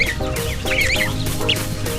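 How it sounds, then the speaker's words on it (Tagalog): Geese on a small farm give honking, squawking calls, several short loud bursts close by in quick succession amid other fowl chatter. "Ito po ay gansa."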